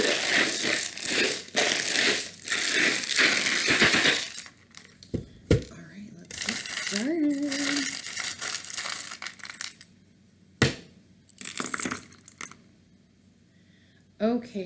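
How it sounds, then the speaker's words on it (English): Small metal charms rattle and clink as they are shuffled in cupped hands, coming in loud jangling bursts separated by pauses, with one sharp clack and a brief voice. "let me go ahead and shuffle these charms"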